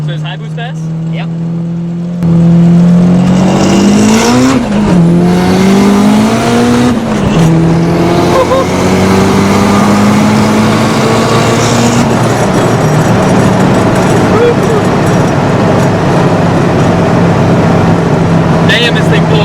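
A 950+ HP Nissan 240sx with a boosted KA-T engine roars loudly and close, its pitch climbing through several hard gear pulls with turbo whoosh, engine noise dominating throughout as the car accelerates.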